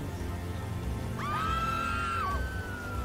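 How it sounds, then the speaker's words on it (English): Shrill scream from a character in GTA V, a single sustained cry lasting about a second over steady background game noise, no talking. "Why are y'all already screaming?"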